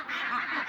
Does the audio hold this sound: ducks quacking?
yes